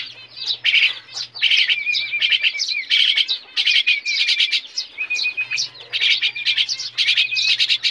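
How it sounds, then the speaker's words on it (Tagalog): Eurasian tree sparrows chirp in quick, busy bursts of bright tweets, several birds calling close by almost without pause, with a low steady hum beneath. "Yung maliit yung maya natin."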